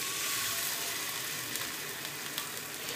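An egg frying in a pan gives a steady, close sizzle with a few light crackles and pops, no voices over it.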